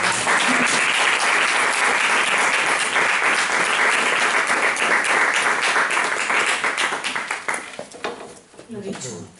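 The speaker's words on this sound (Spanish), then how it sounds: "Antes un aplauso." An audience at a literary talk at the Instituto Cervantes in Stockholm breaks into sustained, dense applause that holds steady for several seconds, then thins into scattered claps and fades near the end.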